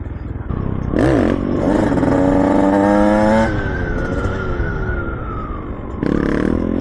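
Motorcycles ridden hard, a BombMoto B1 and a KTM 105, sound up close and loud, with engines revving and whining up through the gears in rising sweeps and then holding a sustained high tone before another rev.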